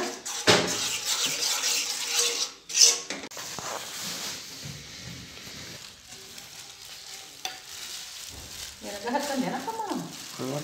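Bajji fritters frying in hot oil in a home kitchen, a steady close sizzle with occasional stirring scrapes and clatter, louder bursts in the first few seconds.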